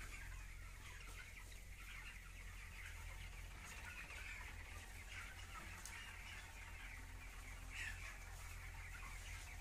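Hens cluck and murmur steadily amid a dense, faint background of poultry noise on a large poultry farm, with no talking.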